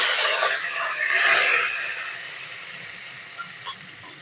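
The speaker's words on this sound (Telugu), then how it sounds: "ఆయిల్ వేడైన తర్వాత మాత్ర గింజలు వేసుకోవాలి తిరుగుమాత గింజలు వేయినాక ఆనియన్ కరివేపాకు వేసుకోవాలి" Onions and curry leaves frying in hot oil, a soft steady sizzle that swells briefly early on and then settles into a faint hiss with a couple of small pops.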